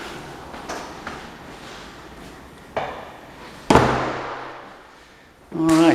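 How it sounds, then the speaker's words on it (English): An apartment door on a beachside unit shuts with a firm, close thud, followed by a brief rattling swing, set against faint room ambience after a few light knocks and footsteps. "Let me close this door."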